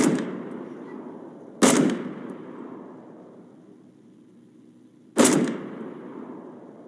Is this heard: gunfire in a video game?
yes